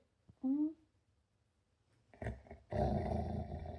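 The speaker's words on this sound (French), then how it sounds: "Il a l'air d'un gros méchant chien, mais c'est sa façon de dire qu'il veut jouer là." A dog growls playfully in short bursts, one low rumbling growl up close followed by a quiet pause, then louder rough growling sounds as a person talks over them.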